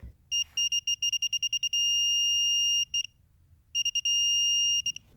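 Vanpo digital torque wrench sounding its high-pitched electronic alarm on reaching 140, a rapid run of beeps followed by a sustained tone, a short gap, then more beeps and another long tone, loud and close.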